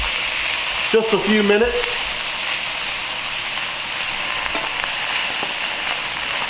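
Shrimp frying in a pan for pineapple shrimp fried rice, a steady close sizzle running throughout, with a brief voice speaking over it near the start.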